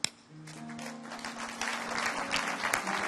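Church congregation applauding during a Sunday service, clapping swelling from a faint start into steady, fairly close applause, with a sustained organ-like tone underneath.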